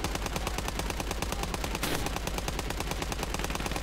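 Machine gun fire in the video game Call to Arms: Gates of Hell during a Sevastopol siege battle, a loud, continuous rapid burst of evenly spaced shots close by, with a short rushing blast midway.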